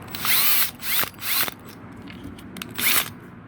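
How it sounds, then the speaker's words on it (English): A power drill with a 1/8 inch bit starts a pilot hole for a tomato trellis mounted on a fence or wall, sounding as short whining bursts near the microphone, separated by brief pauses, with no speech. "Try to get an 1/8 inch bit and just kind of get it started."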